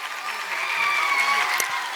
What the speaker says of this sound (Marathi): अनुषा मुदिराज मॅडमसाठी जोरदार टाळ्या व्हायला हव्यात.